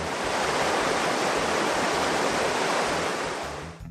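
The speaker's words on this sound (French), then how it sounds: "C'est officiellement la plus grande chute d'eau artificielle que tu n'aies jamais vue." Large artificial waterfall with dense, roaring rushing water, a loud and steady broadband wash that fades slightly at the end.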